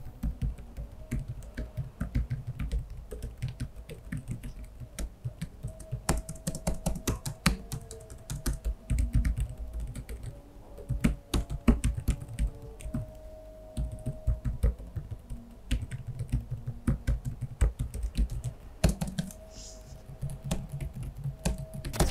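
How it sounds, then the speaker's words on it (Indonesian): Keys clatter steadily on an Asus ROG Strix gaming laptop keyboard, a continuous stream of close, crisp typing strokes with no voices. "Ya kedengeran suara keyboard ya kalau kalian kasar."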